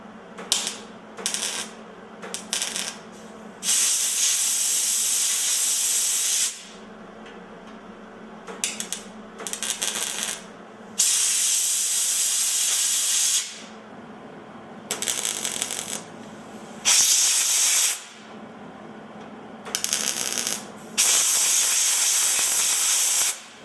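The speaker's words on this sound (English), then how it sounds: "now we've got our little panels clamped into place to be welded" Sheet metal panels clamped on a 1957 Dodge pickup being welded in repeated bursts, loud crackling hiss runs of a few seconds each separated by short pauses and brief taps, close and without talk.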